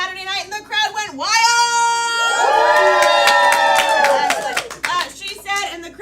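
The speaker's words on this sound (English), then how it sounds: "and the crowd went wild" At a live Halloween special show, a crowd cheers wildly with loud whoops, shouts and high voices over scattered clapping. The roar swells and holds for a few seconds, then breaks into mixed calls.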